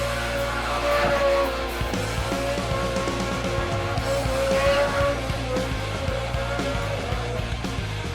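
A car driven hard, like a lunatic, its engine snarling with tire squeal in short choppy bursts, plus busy clattering noise throughout at steady moderate volume.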